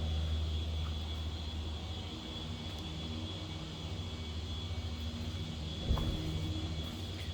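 A 1974 Pontiac Trans Am coupe engine idles steadily with a low, constant rumble and a faint high whine, holding evenly throughout with one brief louder thump near the end.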